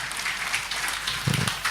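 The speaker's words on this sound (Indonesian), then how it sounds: "Boleh kita kasih tepuk tangan untuk yang bertanya dulu" Modest applause from a hotel-hall audience at a public discussion on regional inflation, a thin patter of clapping with some louder claps toward the end.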